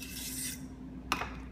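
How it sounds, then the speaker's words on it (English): Pusher assembly being slid out of an Arrow HT55 slim hammer tacker, a short faint metallic scraping rasp followed by a small sharp click, quiet and close. "First, remove the pusher assembly"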